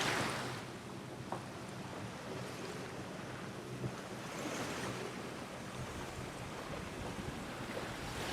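A boat motoring at sea on a windy day with fishing lines out, steady broadband wash of engine, waves and wind noise running throughout with no talk.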